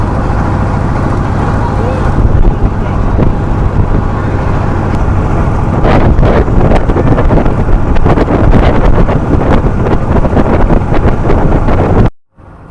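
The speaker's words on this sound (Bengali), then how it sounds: "এই হাওরের ভিতরে ট্রলারের শব্দটা শোনাই" A trawler boat engine chugs steadily on the Ashulia mini haor near Dhaka, a loud low drone under heavy wind buffeting the microphone, continuing until an abrupt cut.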